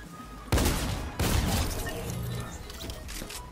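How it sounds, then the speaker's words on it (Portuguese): Gunfire in the video game Fortnite: two sharp, loud volleys burst out in quick succession, followed by a steady stretch of crackling shots and rattling impacts. "Tem mais atirando em mim!"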